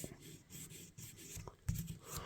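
Gritty scraping and rubbing strokes, close up, as a rusty vintage knife blade is sanded by hand in short uneven passes.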